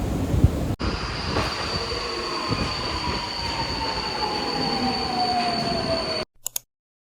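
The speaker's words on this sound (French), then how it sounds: "On va découvrir le métro ensemble." Budapest metro train running loud and close, rumbling steadily with a long, high wheel squeal that slowly slides down in pitch before the sound cuts off abruptly.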